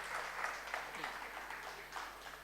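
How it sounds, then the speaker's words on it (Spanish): Congregation at a Hispanic church service in Brisbane, Australia applauding, a steady wash of clapping at moderate level throughout, with a faint voice underneath. "Denle un aplauso al Señor, hermano."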